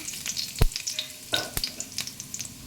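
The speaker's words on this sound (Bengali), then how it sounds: "আমি তেলের মধ্যে একটু জিরে দিয়ে দিলাম ফোড়নে" Cumin seeds crackle in hot oil for a tempering, the same oil just used to fry peanuts for poha: a few sharp pops over a soft, thin sizzle, close and alone.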